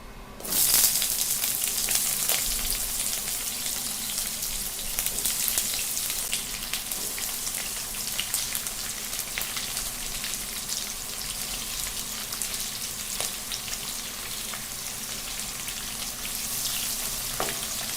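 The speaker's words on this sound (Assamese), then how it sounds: "পিয়াজখিনি ব্ৰাউন কালাৰ হোৱালৈকে ভাজি থাকিম" Onions sizzling in hot oil for chicken biryani, a loud, steady crackling fry up close with scattered pops and occasional stirring, continuous throughout without speech.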